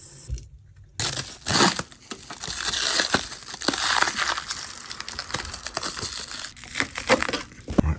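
Wrapping is pulled and torn off a repaired carbon wheelchair, giving close, irregular crinkling and crunching bursts with a short quiet pause near the start.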